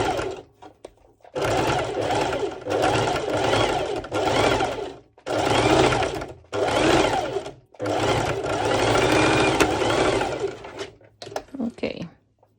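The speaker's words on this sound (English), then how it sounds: "I'm not serging it, this is just a straight stitch" A sewing machine runs a straight stitch through mesh lycra for pole dance shorts. Its motor whirs up close in several long bursts broken by short pauses, with speech faint under the noise.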